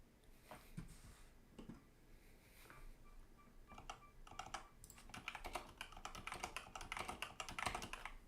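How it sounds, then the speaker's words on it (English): Typing on a Razer BlackWidow V4 mechanical keyboard with yellow switches, quiet and close, a steady patter of key clicks that grows busier and denser toward the end. "I'm using the Razer Black Widow V4 with the yellow switches"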